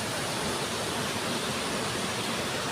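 Water rushes continuously over a waterfall near a temple in Thailand, a dense, even roar with no breaks or voices.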